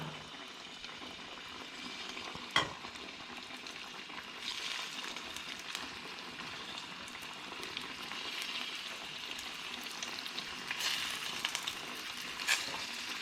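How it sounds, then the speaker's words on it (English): Prawns sizzle steadily in hot olive oil in a pan for prawn pasta, a continuous close frying crackle with a sharp tap near the start and brief louder flare-ups of spitting later, no talk over it. "let's bring our prawns back. Good glug of olive oil. And straight in."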